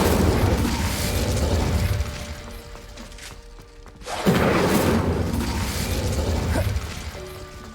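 Incendio fire spell cast in the Hogwarts Legacy video game, heard as a loud roaring burst of fiery blasts that fades briefly, then surges back with a second heavy whoosh and crackle; no voices.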